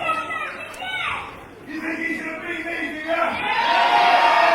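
A wrestling crowd at a Fight! Nation Wrestling bout cheers and shouts in rising, swelling waves after a big headbutt, with a commentator talking over the noise.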